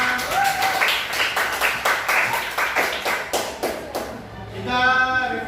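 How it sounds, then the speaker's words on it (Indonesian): A classroom group claps on cue in quick, even bursts of hand taps, a dozen or so sharp claps in a steady rhythm, with a faint voice near the end. "berikan tepuk tangan"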